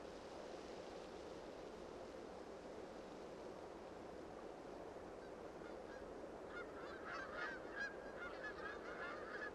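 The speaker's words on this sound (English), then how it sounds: "The wild geese are already streaming southward." Wild geese migrating south honk faintly in the distance, a scattered run of calls rising over a soft, steady outdoor rush in the second half.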